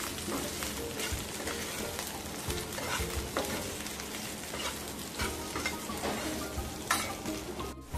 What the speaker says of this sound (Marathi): अशा पद्धतीने भेंडी फ्राय करून घ्यायची आहे.